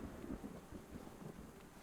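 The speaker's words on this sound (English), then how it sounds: "Oh my god, lightning just struck." A thunder rumble from a lightning strike during a storm in the video game Unexplored 2, a low continuous rolling texture that stays fairly quiet and steady, without a sharp crack, with rain-like noise mixed in.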